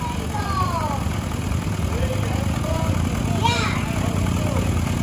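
An old tractor rolling along in a power parade, its engine putting out a steady low chugging drone beneath the chatter of people nearby, while faint birdsong drifts over the top.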